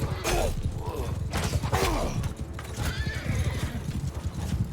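In the video game Mount and Blade II: Bannerlord, several cavalry horses neigh and whinny over a dense, rapid clatter of galloping hooves, busy and loud throughout.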